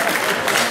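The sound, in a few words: seniors applauding the speaker at a banquet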